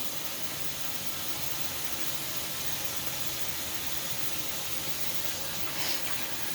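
Tap water runs steadily into a bathroom sink during face washing, a continuous close hiss and splash with no talking.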